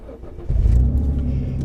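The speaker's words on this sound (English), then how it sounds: "I've already had the car here idling for a little while anyway." A Renault Clio V6 Sport Phase 2 car engine rumbles low and close, rising suddenly into a steady deep idle after a brief quieter start.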